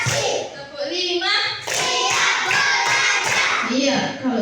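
Schoolchildren in an Indonesian classroom clap on their teacher's count, giving several bursts of sharp, close hand claps mixed with children's voices.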